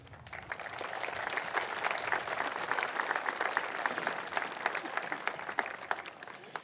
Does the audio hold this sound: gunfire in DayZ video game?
no